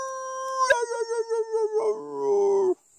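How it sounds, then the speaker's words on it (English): A Doberman Pinscher howls up close, one long wavering howl that rises after a brief sharp noise and holds strongly for about two seconds before cutting off. "Want to howl?"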